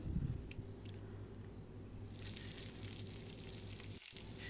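Brinjals fry under a lid in a covered pan, giving a steady, muffled sizzle with a low rumbling hum throughout and a brighter crackle building in the second half, with no one talking.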